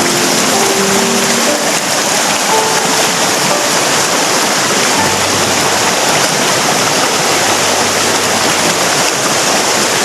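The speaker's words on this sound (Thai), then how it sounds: "นี่คือแม่น้ำนะครับที่เราขึ้นมาตาม ลำธารนี้นะครับ" A forest stream climbs the hillside in dense jungle, its water rushing in a steady, loud, unbroken wash that fills the whole stretch with no voices over it.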